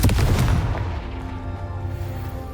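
A blasting Confringo fire spell in Hogwarts Legacy goes off as a loud, booming burst that decays into a long rumbling tail and ringing hum.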